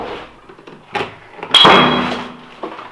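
A door is handled during a paranormal investigation: a few knocks and rattles, then a loud creaking, grinding open with a ringing tone that slowly fades.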